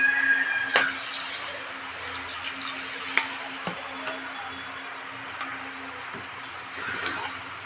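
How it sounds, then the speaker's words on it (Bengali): A small amount of water is poured into a pan of potato dum masala cooking in a little oil, giving a splashing hiss that settles into a softer bubbling over a steady tonal hum. "এবার আমি জল দিয়ে দেব। অল্প পরিমাণ জল দেব।"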